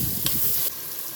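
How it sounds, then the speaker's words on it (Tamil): Tomatoes sauté for country chicken biryani with a brief, steady sizzle that briefly surges as they are stirred. "தக்காளி சேர்த்ததுக்கப்புறம் ஒரு 30 செகண்ட் அப்படியே கொஞ்சம் வதக்கிக்கலாம்."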